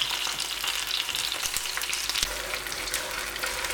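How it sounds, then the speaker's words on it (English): Shallots and garlic fry in a pan over medium heat with a constant loud sizzle, stirring scrapes punctuating the crackle for a few seconds. "cook over a medium heat for 6 to 8 minutes until the shallots are lightly browned. Add the garlic and give it a stir to distribute."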